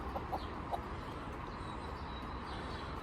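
A broody hen sitting on eggs clucks faintly in soft, scattered notes against a constant background hiss, with no voices.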